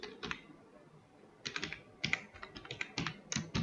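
Quick bursts of keystrokes on a computer keyboard, close and crisp, come in short clusters with a brief pause near the start and no talking.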